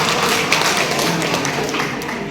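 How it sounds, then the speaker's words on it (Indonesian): Audience members at an elderly community health-post gathering clap for an older woman. The dense, steady patter of hands sounds close and lasts a couple of seconds. "Tepuk tangan buat Oma juga"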